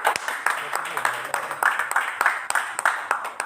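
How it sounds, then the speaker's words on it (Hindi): Applause at a business association press conference in Bareilly: scattered hand claps in an uneven rhythm, close and fairly loud, with someone speaking over them. "तालियां बजाते रहिए, तालियां जोरदार तालियां"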